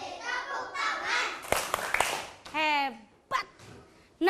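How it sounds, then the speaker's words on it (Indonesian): Children in an Indonesian first-grade classroom clap hands along to a song: a few sharp claps break through their loud, close singing and voices. "Kalau kau senang hati tepuk tangan."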